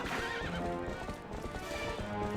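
A horse in The Legend of Zelda: Twilight Princess HD whinnies loudly at close range over a steady clatter of galloping hooves, with game music beneath and no talk.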